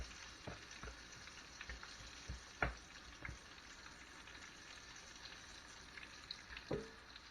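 Bacon-fried chicken sizzles faintly in a Presto electric skillet, a steady low crackle of hot fat broken by a few sharper pops and scraping clicks as pieces are handled.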